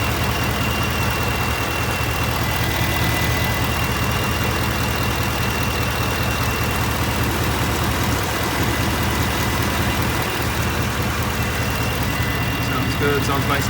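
A Ford F-150 pickup's Coyote V8 idles steadily after an oil catch can install, a loud, constant low rumble close by with no revving, someone speaking briefly over it.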